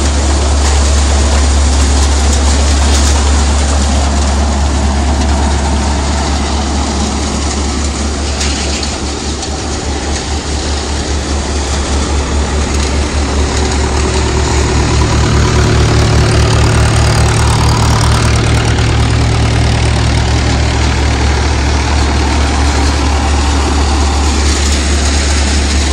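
A Mahindra 575 tractor engine drives a multi-crop soybean thresher in a farm field, producing a loud, continuous low mechanical drone with a steady hum and whirring machinery throughout, with no talk.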